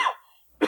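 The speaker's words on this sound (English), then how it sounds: "How long have you had that cough?" A single short cough bursts out at the end, preceded by a fading breathy rasp and a near-silent pause; close and fairly loud, with no talk.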